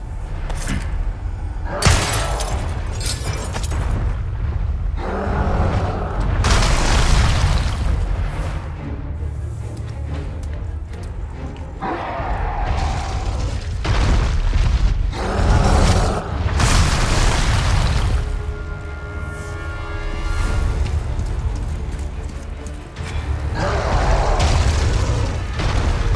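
Cannon fire in the Resident Evil 4 game, heard as heavy, booming blasts that repeat across the stretch and sit over a dense, continuous layer of game sound effects, with no talking.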